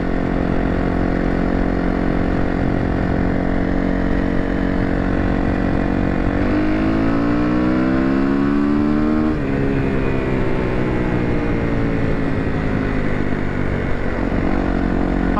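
Motorcycle engine cruising steadily in fifth gear on a five-speed bike, a loud continuous drone with a brief rise and fall in pitch midway, no talk.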